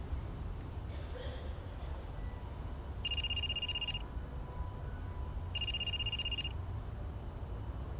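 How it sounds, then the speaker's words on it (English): A telephone rings twice inside the Blackwell Epiphany video game, two electronic bursts about a second long with a gap between them, set over a steady low game background hum. "He's like, are you gonna answer the phone call?"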